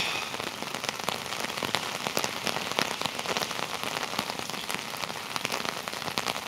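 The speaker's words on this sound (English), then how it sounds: "We got some serious rain coming down here" Heavy rain pours down steadily on a city street during a rainstorm in Norwich, Connecticut, a dense close-up patter of drops striking hard surfaces with no pauses and no voices.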